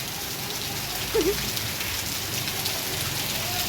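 Heavy rain pours down steadily in a dense, unbroken hiss during a downpour in Ahmedabad, with no voices.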